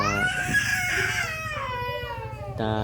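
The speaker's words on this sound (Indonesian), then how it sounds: "Mohon maaf, ada suara tangisan anak." A child cries close by in a long, rising and falling wail that breaks briefly and then starts again, loud and clear with no other voices over it.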